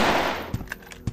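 Pistol shots fired in the video game Object N, a few sharp separate bangs in quick succession after a fading louder blast, close and alone.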